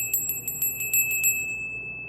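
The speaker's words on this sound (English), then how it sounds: "I'm hearing to ring the bell for you" A small bell rung rapidly during a tarot reading, about eight bright, clear strikes in quick succession that then fade into a sustained ringing tone.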